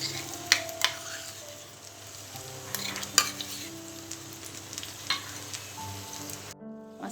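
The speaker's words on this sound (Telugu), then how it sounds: "మసాలాని వంకాయల్లో వేసిన తర్వాత దీన్ని బాగా కలుపుకోవాలి." Masala is stirred through stuffed brinjal curry in a pan, with a steady low sizzle under repeated scraping strokes and a few sharper clicks of the spoon, close by.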